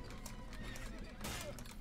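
A horse neighs in Mount & Blade Warband, a loud whinny over a steady busy backdrop of clip-clopping hooves and battle noise, with a brighter burst near the end.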